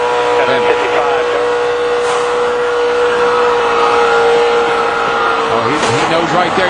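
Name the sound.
ARCA race cars wrecking at Daytona, tire going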